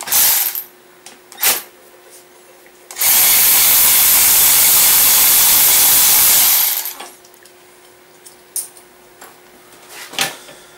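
A power tool fitted with an 8 mm socket runs in one steady, loud burst of about four seconds while removing bolts from a 420cc Predator / Honda GX390 engine during a charging coil upgrade. Brief clicks and handling noises come before and after.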